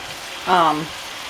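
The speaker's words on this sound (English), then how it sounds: "Chicken sizzling." A steady hiss of chicken sizzling in a hot pan over medium heat for jambalaya, with a brief tonal hum rising over it midway.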